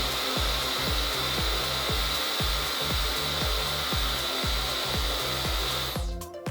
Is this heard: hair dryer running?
yes